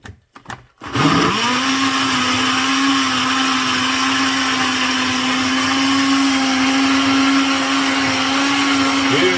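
Chopped ordinary onion blitzed in a blender for gazpacho: a few short clicks and bumps, then the motor starts and drones loudly and steadily at close range for the rest of the stretch, with no talking.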